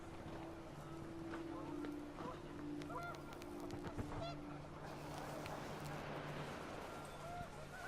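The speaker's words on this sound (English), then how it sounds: "The wind picked up, and panicked geese appeared and quickly went." Panicked geese honking in a video game as the wind picks up, several calls over steady ambient game sound and a droning tone.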